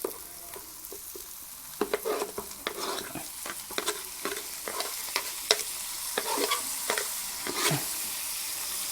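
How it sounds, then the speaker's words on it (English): Tomatoes frying in a pan for Parsi scrambled eggs, a steady close sizzle broken by repeated scraping stirs and utensil knocks, with no voices. "So now I'm going to put the tomatoes in."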